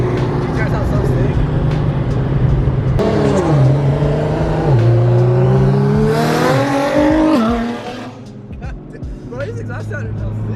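A loud Nissan GT-R exhaust revving hard, its steady roar swinging up and down in pitch through several throttle blips before dropping to a lower idle, heard close with voices of passengers talking inside the car.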